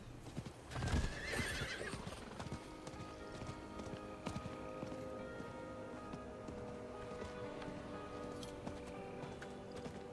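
Horse hooves pounding in a steady galloping rhythm while riding in the video game Diablo 4, with a neigh near the start and a faint patter like rain in the background, with no talking.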